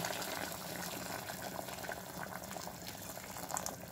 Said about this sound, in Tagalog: Dagdagan ko ng sabaw guys